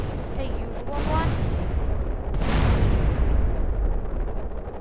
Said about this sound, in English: Still hear explosives.